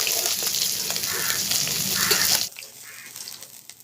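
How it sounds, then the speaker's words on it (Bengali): Fish frying in mustard oil in a kadai, a steady dense sizzle that drops sharply to a quieter hiss partway through, with no voices. "মাছগুলো ভাজা হয়ে গেছে আমি তুলে নেব"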